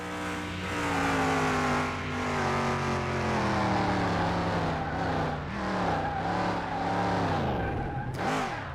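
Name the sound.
car engine at top speed in Car Mechanic Simulator 2021 video game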